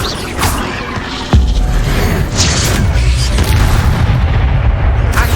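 Incendio fire spell blasting in Hogwarts Legacy, a sudden heavy boom followed by a loud rumbling, roaring fire and crackle that continues to the end, with short whooshing accents.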